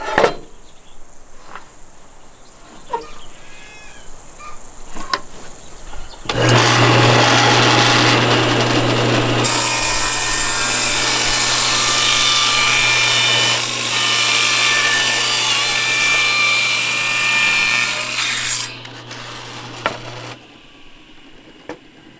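A table saw rips about a quarter inch off a board edge: the motor spins up to a loud, steady whine with a cutting roar layered on for about twelve seconds, then winds down, with workshop clatter before.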